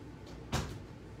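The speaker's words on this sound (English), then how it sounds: "I closed the door good." A door is pulled shut once, giving a single short bump against low background noise, with no talking.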